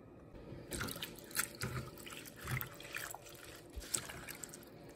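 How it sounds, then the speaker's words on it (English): Fresh basil leaves are swished by hand in a bowl of water, making soft splashes, drips and trickles in irregular bursts, close and fairly quiet. "put them in the bowl, and swoosh them around with water"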